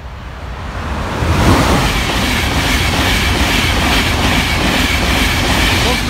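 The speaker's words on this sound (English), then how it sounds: "Train." A train rumbles past a level crossing at Barnby, its clickety-clack wheels loud and steady close by for several seconds after building up, with a faint flat-tone crossing alarm beneath.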